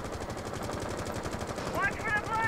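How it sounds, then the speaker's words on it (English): Rainbow Six Siege gunfire: continuous rapid automatic shots, moderately loud and steady throughout, with a faint tonal chirp near the end and no clear speech. "Who's shooting up here?"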